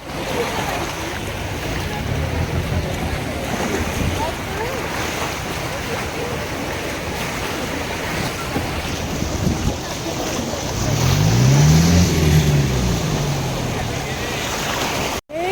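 A boat crosses deep open sea toward another island off Krabi, Thailand, with a steady roar of wind and surf washing over the microphone and an engine hum swelling briefly near the end.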